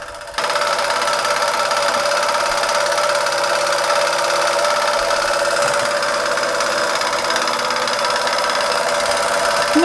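A small German vertical-boiler model steam engine, Bing or Ernst Plank, with a modified Mammoth flywheel runs at a steady pace, producing a continuous, fast mechanical whirring and ticking that stays even and close throughout.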